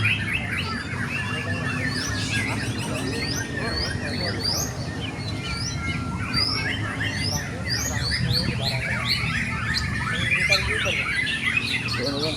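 A young white-rumped shama sings in a long, busy stream of whistles and chirps, with other birds calling in the background and steady low crowd murmur underneath.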